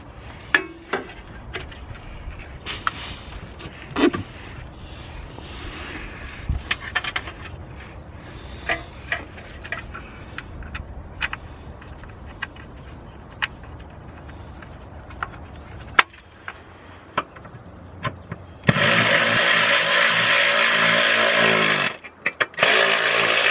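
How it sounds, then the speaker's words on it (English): Under tray being refitted beneath a BMW E46, with scattered close clicks, taps and clunks of tools and fasteners, followed near the end by a burst of loud continuous power-tool whirring. "All we need to do is reinstall our under tray now."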